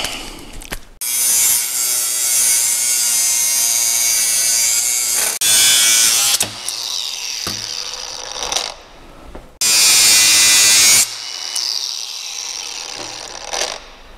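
Loud bursts of a buzzing power saw cutting while mounting an electric winch on a car trailer, starting and stopping several times with short quiet gaps between runs, close by.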